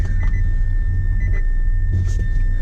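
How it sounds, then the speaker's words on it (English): An electric Nissan e-NV200 van with a flat battery gives a thin, constant electronic whine above a low, steady rumble, with a few faint clicks and shifts along the way. "That noise is the noise of a flat battery."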